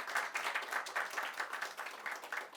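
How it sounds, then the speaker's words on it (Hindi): A church congregation claps together in dense, steady applause, moderately distant and even, without speech. "अभी समझ गया तो ताली बजा सकता है"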